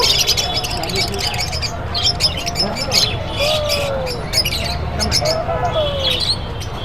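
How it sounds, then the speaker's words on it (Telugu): Many caged birds squawk and chirp constantly, loud and overlapping, at a busy pet bird market in Erragadda, with a low crowd murmur underneath. "పక్షుల మార్కెట్ అయితే చాలా బాగుంది"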